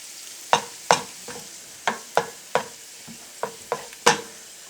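Raisins frying in ghee for Malabar ghee rice, heard as sharp clinks and scrapes of a spoon stirring in a pan, about ten distinct knocks in an uneven rhythm over a faint background sizzle, close and with no voices.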